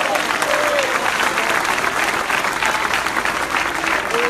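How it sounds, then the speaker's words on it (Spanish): A church congregation in Lislique, La Unión, El Salvador claps in praise, a dense, steady wash of many hands that fills the room evenly from start to finish with no voices standing out. "¿Cuánto le dan palmas de alabanza al Señor?"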